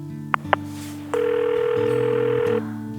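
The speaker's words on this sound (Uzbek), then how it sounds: "telefon qilib so'rab ko'raychi" A telephone gives a couple of short keypad beeps, then a steady, even ringback tone sounds for about a second and a half while an outgoing call connects, over soft background music.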